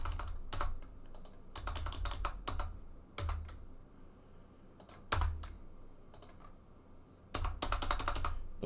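Typing on a computer keyboard during game development, with bursts of rapid key clicks broken by short pauses, close and clear with no talking over it.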